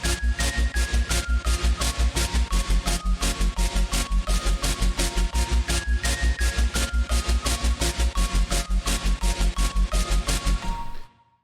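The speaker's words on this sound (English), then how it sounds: "Added this little arpeggiator twinkle sound to the mix." A bright arpeggiator twinkle steps through quick high notes over a pumping, kick-sidechained sub bass in an electronic track, steady and loud throughout and stopping abruptly near the end, with no voices.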